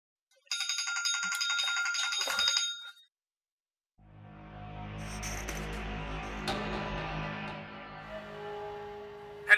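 A mobile phone ringtone in a Pakistani TV drama scene plays as a bright, patterned ringing burst for about two seconds. A pause follows, then a low, rumbling background sound builds up.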